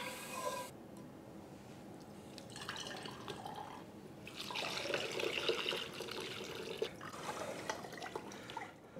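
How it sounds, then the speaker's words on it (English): Wassail made with apples strained through a mesh sieve into a pitcher, giving a steady close trickle and dribble of liquid with faint glassy drips, continuing alone without talk. "Now I'm going to strain the mixture through a mesh sieve right into my pitcher."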